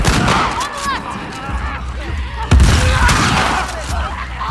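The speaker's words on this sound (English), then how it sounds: "Here come the pipe bombs." Pipe bombs burst amid heavy gunfire in a The Last of Us Part II firefight on survivor difficulty, with a loud blast near the midpoint over continuous shots and someone talking throughout.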